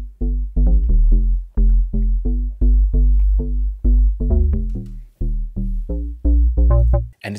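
Synth bass built in Vital and run through a TAL Chorus plugin emulating Juno-style chorus: punchy, rhythmic staccato notes in a bouncy pattern, loud, full and alone.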